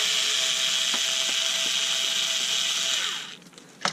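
A Ryobi cordless screwdriver whirs steadily at close range, backing screws out of a giant 6V lead-acid lantern torch, then the motor winds down and stops near the end.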